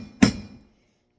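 A single sharp metallic tap lands on a punch to mark a starter dent for drilling in garden basket material, a crisp close strike that rings briefly and fades, followed by a faint soft knock.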